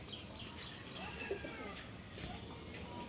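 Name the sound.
pigeons cooing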